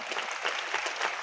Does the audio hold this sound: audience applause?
yes